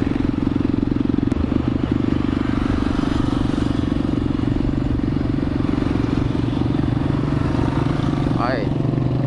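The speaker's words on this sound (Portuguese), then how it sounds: "Mandar o pessoal aqui das motos passar" Motorcycles roll past at a riders' meetup in João Pessoa, a steady broad engine drone with low rumble throughout and a brief rising rev near the end, crowd chatter mixed in.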